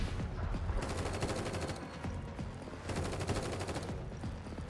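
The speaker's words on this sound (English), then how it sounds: "Just then a string of precise gunshots cuts off the security team's transmission." Bursts of rapid gunfire crackle in a string of sharp shots over a dense, rumbling game soundscape, loud and sustained with two heavier volleys.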